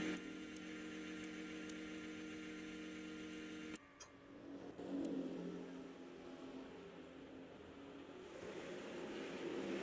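Racing-game Formula-style car engine leaving a pit stop at a China race, a steady high engine whine with harmonic tones that abruptly drops off midway, then a rougher, shifting rumble building back up, no voices.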